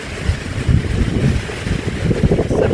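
Strong Chinook wind gusts in remote Alaska, roaring and buffeting close to the microphone beside a building, a continuous rough rumble with surging gusts and no voices.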